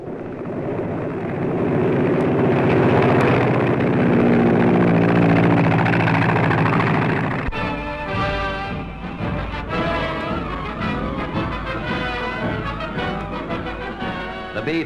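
A loud, droning piston engine of an L-4 light plane carrying an improvised litter for air evacuation in wartime, steady for about half the span before a hard cut to other material.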